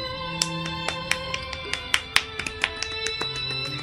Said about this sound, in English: Yeah, golf clap.